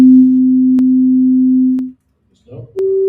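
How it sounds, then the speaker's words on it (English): A plain sine wave tone, a single steady pitched note held for nearly two seconds, then a short gap with a faint rustle before a softer, higher steady tone begins. "so if I play just a basic sine wave"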